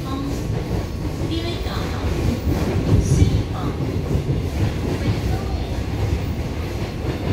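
EMU515 and EMU516 electric multiple unit commuter trains coupled together running on the Yilan line toward Su'ao, a loud steady rumble with rail clatter and faint wheel squeal heard from close by, some talking underneath.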